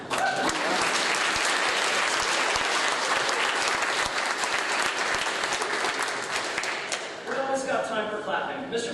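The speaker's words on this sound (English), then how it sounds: "we always got time for clapping" A loud, sustained wave of clapping from a crowd at a college athletics hall of honor celebration, dense and continuous for most of the clip before easing as voices begin to come through near the end.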